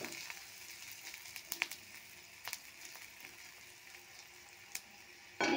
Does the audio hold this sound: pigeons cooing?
no